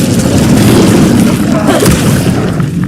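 An Incendio fire spell cast in Hogwarts Legacy: a loud, dense whooshing burst with a rumbling low boom that holds steadily for a few seconds and trails off slightly at the end.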